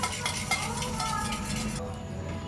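Yogurt being whisked in a bowl for papri chaat, a steady close scraping and stirring rattle of utensil against the bowl, continuous and moderately loud, no talking.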